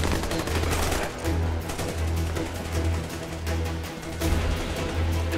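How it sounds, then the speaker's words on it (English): Heavy gunfire from the Army of Two: The Devil's Cartel video game, dense bursts of automatic shots overlapping continuously and loudly without a break, with no one speaking over them. "somebody shooting me all in the back?"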